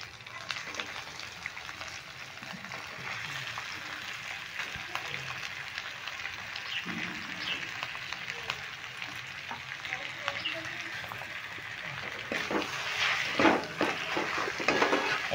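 Mashed potatoes stirred with spices in a hot pan sizzle steadily, with soft scrapes and occasional clinks of the utensil that grow busier and louder toward the end.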